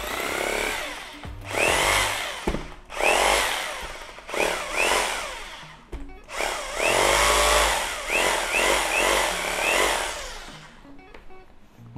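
Electric Hitachi concrete rotary hammer drill, 100V 500W, running in normal drilling mode: a loud, harsh motor whine in repeated bursts that stop and restart, steady between gaps, with no talk.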